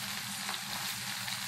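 Seeds crackling and sizzling in hot oil as tempering is made for a tangy tamarind stew, a dense steady hiss with small pops, close and fairly quiet, no voices.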